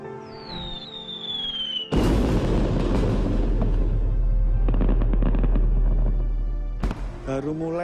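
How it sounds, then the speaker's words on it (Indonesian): Fireworks launching with a whistle, then a loud booming burst of large yellow, orange and gold shells crackling and spreading, with a second sharp bang near the end. "Baru mulai nih, kembang api warna kuning, jingga, emas."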